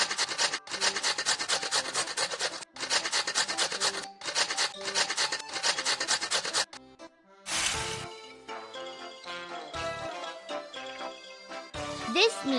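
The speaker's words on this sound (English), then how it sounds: "We need to grate this." Ingredients grated in a Masha and the Bear pizzeria cooking game: bursts of rapid rasping scrapes broken by short pauses, then chimes and bright game jingles, close and loud with no talking.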